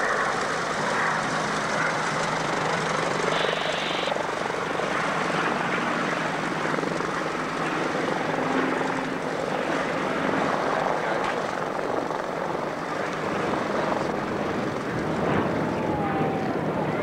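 Classic old aircraft engines at an airshow give a steady, broadband propeller drone that continues for the whole stretch, loud and unbroken, with wind-like hiss and faint crowd sounds underneath.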